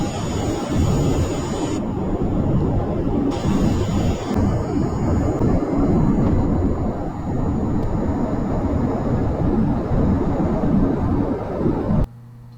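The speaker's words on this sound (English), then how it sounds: "And she busts the afterburners." Jet engine roar with afterburners firing from a spacecraft in Kerbal Space Program, a loud continuous broadband rush lasting about twelve seconds before cutting off abruptly to near silence.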